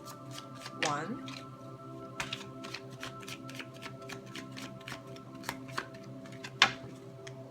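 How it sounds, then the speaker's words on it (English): A tarot card deck being shuffled by hand in riffling bursts and soft card flicks, close up, with a person talking quietly between shuffles. "Again, we'll shuffle 3 times."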